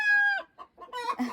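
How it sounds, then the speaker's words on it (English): A hen clucks before laying an egg, giving a loud, drawn-out, close cackle followed by a few shorter broken clucks, with no people talking. "That's just one of our OG hens are getting ready to lay an egg."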